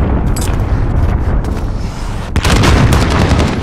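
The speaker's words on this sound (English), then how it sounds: "Allied cruise missile away." Booming artillery-style blasts from a cruise missile strike in Call of Duty: Modern Warfare, loud and continuous with a sharp new burst of rumbling impact midway, no talk over it.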